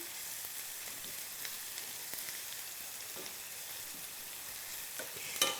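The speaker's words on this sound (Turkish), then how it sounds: "Soğanı epey bir kızartıyoruz" Steady sizzling of onions frying in a pan, with occasional stirring scrapes, close and continuous with no talking.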